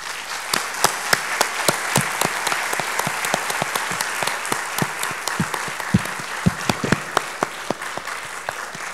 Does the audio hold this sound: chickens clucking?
no